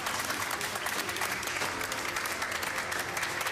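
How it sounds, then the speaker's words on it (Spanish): Steady, dense applause from a crowd, clapping continuously at an even level throughout. "Un aplauso."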